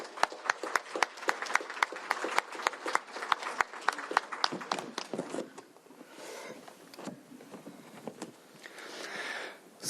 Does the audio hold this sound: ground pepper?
no